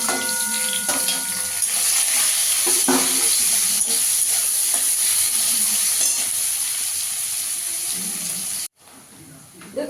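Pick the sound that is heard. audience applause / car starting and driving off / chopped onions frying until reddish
chopped onions frying until reddish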